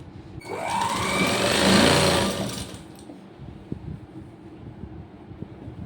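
A sewing machine runs in one fast burst of about two and a half seconds while stitching a blouse edge, whirring up and settling, then stops, leaving faint clicks and handling noise.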